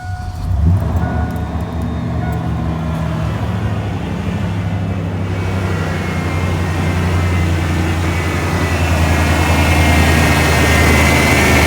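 A Ford F-150 pickup's 5.0 engine turns over and catches, then settles into a loud, steady running rumble that continues to the end.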